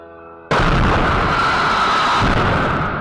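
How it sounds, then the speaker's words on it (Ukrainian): A blast erupts at a spirit distillery's alcohol reservoir after a drone strike. A sudden loud boom is followed by a sustained, roaring rumble that fills the rest of the moment without fading. "як воно приємно горіло та вибухало, дрони могли влучити щонайменше у один із резервуарів зі спиртом"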